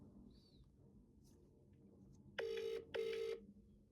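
An outgoing mobile phone call to a business contact on the Vodafone network, with a quiet, faint line first and then two short, evenly spaced bursts of ringback tone.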